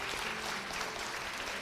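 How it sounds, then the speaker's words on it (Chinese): Brief applause from a church congregation at an Easter Sunday service, honoring a group of children and their parents; steady, moderately quiet clapping throughout with no talk over it. "拍手，谢谢。"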